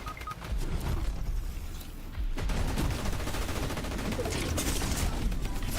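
Rapid SMG gunfire in a Fortnite Reload Zero Build match, dense bursts of shots crackling continuously and loudly for several seconds with only a brief dip in the middle, no voices over it.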